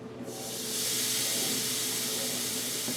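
Beef tri-tip sizzles on an indoor smokeless grill as a loud, steady hiss that swells within the first second and stays continuous and close throughout.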